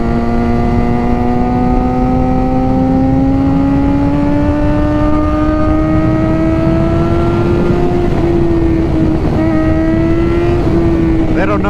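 A Suzuki GSX-R 600 sport motorcycle ridden along twisty roads, its engine note rising steadily as it accelerates, loud and close, then wavering with throttle changes near the end.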